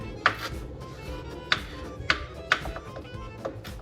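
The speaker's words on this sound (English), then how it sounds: "You're just gonna cut that up." Fresh parsley chopped with a knife on a cutting board, a handful of sharp, spaced knife taps over low background hum, fairly close.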